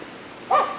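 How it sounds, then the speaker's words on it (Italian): A single short dog bark rings out in a park, sudden and fairly close, rising above a quiet, steady outdoor background. "tra l'abbaiare dei cani"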